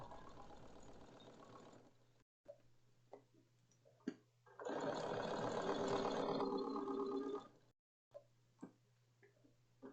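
Sewing machine stitching through about six uninterfaced layers of leather and fabric for a pillow, a steady mechanical whirring in short runs with a louder sustained burst midway and brief pauses between, quiet and close.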